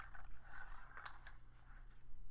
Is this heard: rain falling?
no